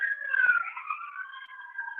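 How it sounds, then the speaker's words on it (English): A police siren wails steadily at a distance, its pitch sliding and wavering continuously. "Ignore the sirens; they're not coming for CJ."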